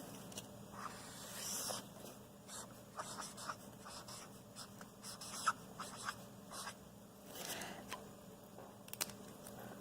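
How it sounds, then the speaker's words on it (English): A pen or marker writes a name by hand, with soft scratchy strokes coming in short bursts over a quiet background. Faint and close, with no talking. "Let me write your name here."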